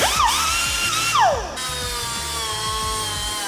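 A pneumatic right angle die grinder revving up and grinding, a high whine rising then falling, then a steadier high-pitched spin running on, close and loud.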